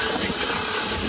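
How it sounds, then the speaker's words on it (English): A boat engine runs steadily at a constant drone, loud and close, mixed with broad wind and water noise in rough weather, with no talk. "The engine's running because I wanted to catch up and try and catch them"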